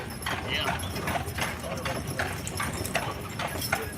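Horse hooves clip-clop in a steady, brisk rhythm on a hard surface during a horse carriage tour, with people talking over the hoofbeats throughout.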